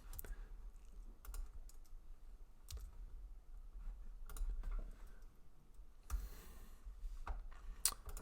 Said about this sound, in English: I can't type that again